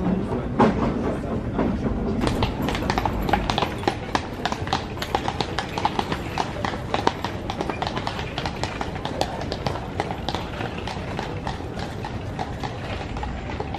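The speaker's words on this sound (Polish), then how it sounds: "zaczarowana dorożka, zaczarowany koń." Horse hooves clip-clop steadily on the street as a horse-drawn carriage passes in Kraków, close and rhythmic, with people talking over it.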